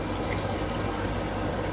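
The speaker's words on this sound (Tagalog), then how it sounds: "At maglalagay din tayo ng konting" A little water poured into a pot of chicken caldereta, a brief, steady close splashing rush.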